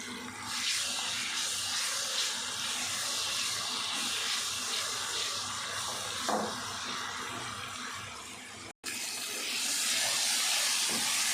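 Chopped tomatoes sizzling in a hot pan of oil while cooking masoor pulao, a steady, close frying hiss that runs almost unbroken, with one brief dropout near the end.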